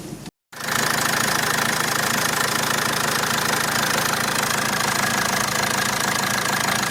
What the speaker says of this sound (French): Ça fait un bruit moteur normal.